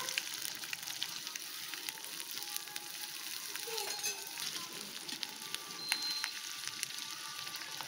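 Sliced onion and green chili fry in hot oil, a soft steady sizzle with faint crackles that holds at an even, fairly quiet level throughout.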